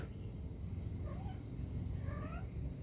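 A house cat meows a few times in a calm indoor setting, its rising and falling calls standing out over a steady low background hum.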